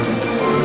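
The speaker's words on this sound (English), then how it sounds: "it's flipping pouring with rain" Heavy rain pours down steadily on Main Street at Disneyland Paris during a thunderstorm, a dense continuous wash of drops hitting hard surfaces, loud and close with no voices.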